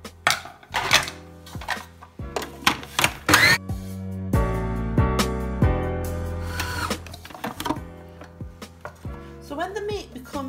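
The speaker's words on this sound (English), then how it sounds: "The first thing we're going to do is we're going to grind the meat so it's very, very, very soft." Meat being ground very fine for Gulati kebabs, with a motor whirring in uneven surges alongside clattering and knocking of equipment; a voice speaks at times.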